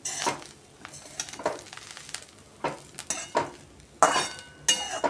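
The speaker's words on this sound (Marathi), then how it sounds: "मिक्स करून झालेलं आहे आपलं सारण." Sambar wadi filling is mixed in a pan, with repeated scraping and stirring strokes of a spoon against metal. The strokes come close and at a moderate level, in irregular bursts with faint sizzling underneath.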